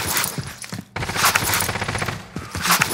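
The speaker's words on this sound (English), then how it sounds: "I'm taking fire!" Video game gunfire in a team shooter match: dense, loud bursts of rapid shots and fusillade crackle filling the whole span, with a brief gap near the first second before the shooting resumes.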